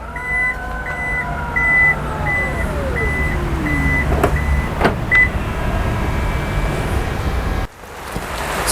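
A Toyota Yaris Cross GR Hybrid's power tailgate closes and locks. Evenly spaced warning beeps sound over a descending motor whine, then sharp latch clicks, a final lock thunk, and a brief quiet stretch.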